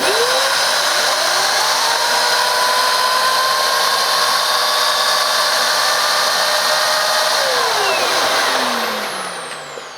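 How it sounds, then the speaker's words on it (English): A Hoover Junior Athyss ST226F stick vacuum with its turbo brush spinning gives a loud, steady motor whine and airflow hiss with a sustained rising tone, close by, then winding down at the end. "Very quiet, actually, for a turbo nozzle."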